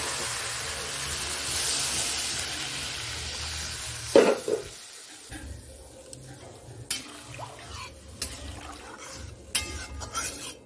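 Water poured into a sizzling pan of Bengali fish curry: a steady frying hiss that suddenly bursts loud as the water hits, then settles into quieter bubbling with a few sharp clinks of stirring.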